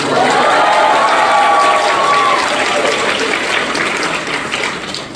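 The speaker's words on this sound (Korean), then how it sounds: "이, 대목에서 박수 한번 나와야 되는데" A ceremonial audience claps steadily at a KOICA WeCo fifth-cohort launch ceremony, with whistle-like cheers rising over the dense, sustained applause before it slowly thins.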